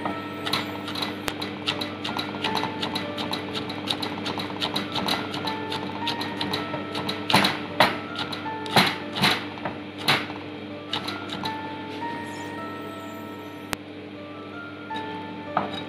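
A kitchen grinder spinning a chichinga (snake gourd) mixture runs with a steady motorised whir and a fast, rattling clatter of ticks throughout, loud and close.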